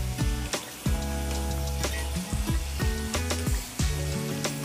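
Chakli dough frying in hot oil, a steady close sizzle with bursts of bubbling and occasional utensil clinks and stirring, no voices.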